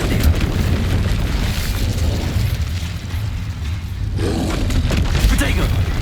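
Confringo and Incendio spell blasts in the game Hogwarts Legacy, a run of dense booming explosions and fiery bursts that stay loud throughout, with a brief dip before another blast swells up near the end, voices heard alongside.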